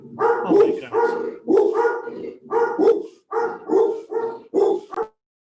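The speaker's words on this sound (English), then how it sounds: "my dogs are all of a sudden unhappy with somebody outside" Two dogs bark in loud, close bursts indoors at a delivery driver ringing the doorbell outside, about seven rapid volleys in a steady rhythm, then quiet.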